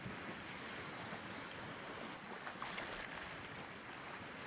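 Ocean waves and sea spray create a steady, dense broadband rush with constant churning surf and some wind, heard alone at low volume.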